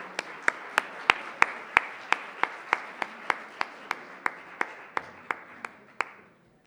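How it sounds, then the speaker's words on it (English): An audience at the Jaipur Literature Festival claps to welcome guest speakers, a steady run of sharp, evenly spaced claps that fades out after about six seconds. "Would you all join me with a big round of applause in welcoming our guest speakers"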